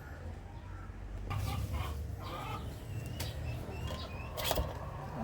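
A broody hen in a coop clucks softly in short, scattered bursts over a low background hum, close but quiet.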